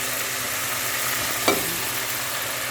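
Tamarind-stuffed green chillies fry in hot oil for pickle, giving a steady, close, even hiss with one brief click partway through.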